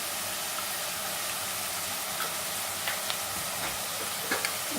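Chopped onion and green chili fry in a pan with a continuous, close hiss of sizzling. A few light stirring scrapes and clicks break through now and then, with no voices.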